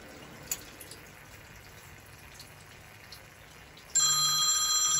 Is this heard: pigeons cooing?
no